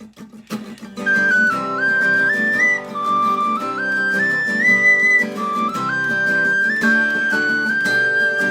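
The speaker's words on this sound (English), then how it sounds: "You gonna do the whistle part?" A person whistles the melody line of a song, clear sustained notes stepping up and down over a steady strummed instrumental accompaniment, continuous for about eight seconds.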